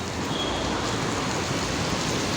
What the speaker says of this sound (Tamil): சரியான மழை பேஞ்சிட்ருக்குங்க பாருங்கள்